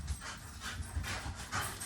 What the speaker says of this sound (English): Simba, why are we huffing and puffing, bud?